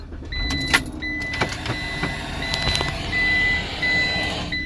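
Steady electronic reversing beeps from a waiting truck repeat at an even pace, fairly close, over the broad rumble of nearby road traffic.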